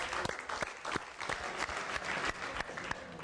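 A crowd at the Eurovision 2011 event in Baku applauds Azerbaijan's winners, Nigar Camal and Eldar Qasımov, with dense, steady clapping that holds throughout at a moderate level.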